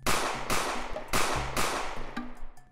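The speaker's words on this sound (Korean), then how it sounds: "총성이 울리고" A rifle volley, fired by a hunting party at a bear at long range in Japan, comes as four or five loud, sharp reverberating shots in quick succession, booming close and then decaying.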